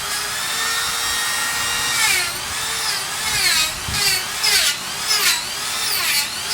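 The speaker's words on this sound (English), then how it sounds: "this is just a little inexpensive Dremel tool with a bit on it that's ordinarily used for woodworking" A small, inexpensive Dremel rotary tool with a woodworking bit grinds bark off bonsai deadwood, a steady high whine that rises and falls in pitch as it bites into the wood, close and continuous with no talking.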